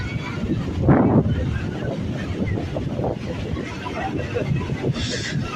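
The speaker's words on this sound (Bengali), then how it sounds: "জোয়ারের আনাগোনা পথে যাচ্ছে, আস্তে আস্তে পানি তীরের মধ্যে চলে আসতেছে" Wind and sea waves at the shore as the tide comes in, a continuous rough wash of surf with gusty wind buffeting the microphone and a slightly louder surge early on.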